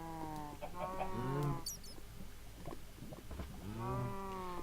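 Two long cow moos in Minecraft, one at the start and one near the end, separated by a brief gap with light clattering in between.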